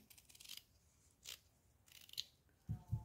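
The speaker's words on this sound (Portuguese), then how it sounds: "Minha tesoura já tá ficando meio cega." Rather dull scissors snip ribbon for a bow in several short, crisp cuts spaced apart, followed by two low, soft thumps near the end, close and quiet with no talk.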